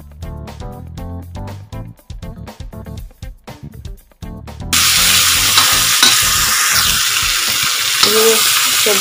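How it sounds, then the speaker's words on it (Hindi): Spiced arbi (taro) sabzi being stirred in a pan: scraping, clattering strokes in the first half give way to a loud, continuous sizzle, with no talking. "5 मिनट तक मसाला मिला दिया"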